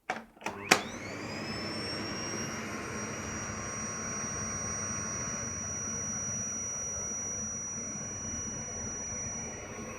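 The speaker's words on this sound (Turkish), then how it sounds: "fakirde e, vakum gücü motor hız ayarı olduğu için minimumda şu anda" A Fakir Veyron Öko vacuum cleaner starts with a couple of clicks, then settles into a steady, fairly quiet motor whine with its speed set to minimum.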